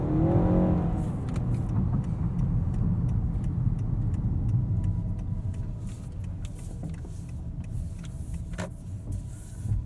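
A 2021 Honda Accord Hybrid Touring accelerating: the engine hums and builds steadily under broad road and wind noise, with faint ticks and rattles along the way.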